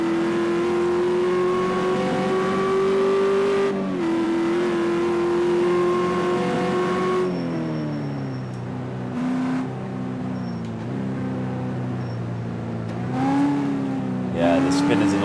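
Race cars in the VR racing game Motorsport Revolution drone with steady, loud engine tones that shift pitch as they accelerate and brake, one car spinning out, with a voice talking over parts.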